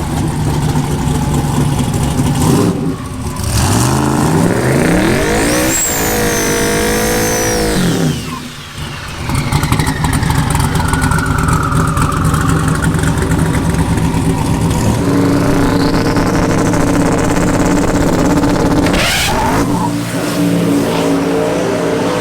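A drag race car makes a test run at LS Fest, its loud engine revving hard and climbing to a scream before dropping, then idling and revving again up close.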